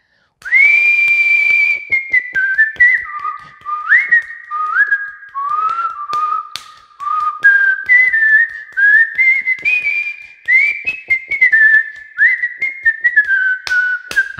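Whistled melody from a Tamil film song: a loud, clear whistle carrying a continuous tune in gliding phrases with short breaks, heard alone with no voices.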